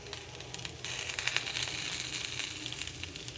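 Stuffed eggplant and chillies fry in a little oil, giving a steady close sizzle that grows louder partway through and keeps crackling softly with no talk.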